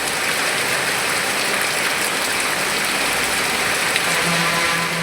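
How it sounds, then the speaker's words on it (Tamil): Drizzling rain falls in Rasipuram, Namakkal district, a steady, even hiss of fine drops on surfaces that stays constant and moderately loud throughout, with no talking. "சுமார் அரை மணி நேரத்திற்கு மேலாக சாரல் மழை பெய்தது"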